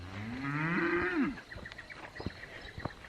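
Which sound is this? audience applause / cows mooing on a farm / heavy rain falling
cows mooing on a farm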